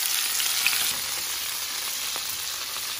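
A marinated beef skewer sears in a hot pan, giving a steady, even sizzle with no voices over it.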